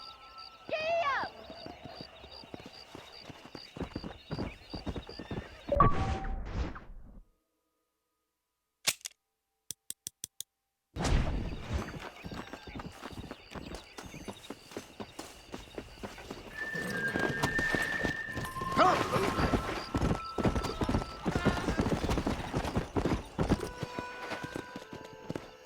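In the Red Dead video game, a horse's hooves clip-clop in a steady rhythm. The sound drops out briefly, then the ride continues, with occasional whinnies and other game sounds on top.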